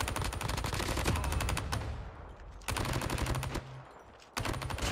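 Rapid automatic gunfire from the Call of Duty Mobile battle royale mode rattles in loud, dense bursts, with two brief pauses between volleys and no speech over it.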